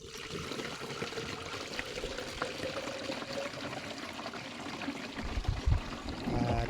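Liquid fertilizer dissolved in water is poured into a container for tomato plants, a steady splashing, trickling stream close by, growing louder and heavier near the end.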